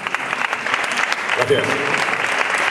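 Audience applause at a Pecha Kucha talk in Sevilla, steady dense clapping filling the whole stretch while someone briefly speaks over it.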